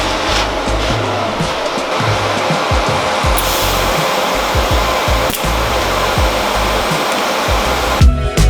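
Steady gas hiss of argon purge flowing through a Honda Civic EK exhaust pipe before welding, a continuous broadband rush holding at even level throughout with no talk.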